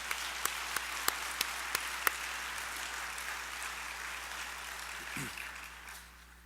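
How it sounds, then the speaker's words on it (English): Audience applause at a plenary session of the 2012 North American Cystic Fibrosis Conference, a dense, steady wash of clapping from a large hall with a few sharper claps standing out early, sustained and then tapering off at the end. "Please give them a round of applause."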